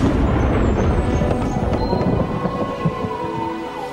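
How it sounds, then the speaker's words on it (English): Bowling balls rolling down lanes on league night, a deep continuous rumble like distant thunder with scattered knocks and clatter, steady and loud for several seconds, no voices. "that wasn't thunder I heard. It was the sound of bowling balls."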